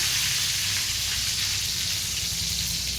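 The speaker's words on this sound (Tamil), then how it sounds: "பாருங்கள் எவ்வளோ சூப்பராக பொரிஞ்சு வருதுன்னு" Spices tempering in hot oil for a dried fish curry sizzle and crackle in a steady, dense frying hiss that continues unbroken and close throughout, with no talking.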